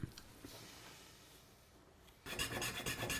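Hand file rasping across a guitar nut blank, a quiet scraping rub that turns into louder, steady rapid strokes near the end, with no talking.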